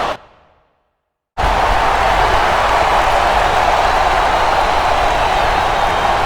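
Crowd noise from the WWE SmackDown vs Raw 2008 video game, a steady loud wash of arena cheering and roaring that cuts in abruptly after a second of silence.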